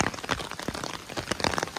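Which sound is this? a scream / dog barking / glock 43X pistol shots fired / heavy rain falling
heavy rain falling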